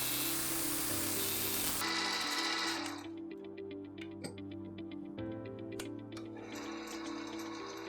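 A mini lathe cuts a metal part in a home workshop, its motor whining steadily with a loud cutting hiss that drops away midway and then returns.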